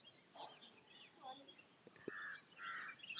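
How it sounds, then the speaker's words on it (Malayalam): Birds chirp and call faintly near a tea plantation in Vagamon, a scatter of short tweets and trills in a quiet outdoor setting, with soft talking in between. "കിളികളെ ശബ്ദം എങ്ങനെയുണ്ട്?"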